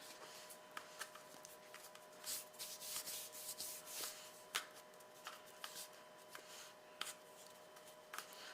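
A hand rubs and smooths icing on a jack-o'-lantern cake, making soft, close scuffing strokes with light taps in an uneven rhythm, quiet overall.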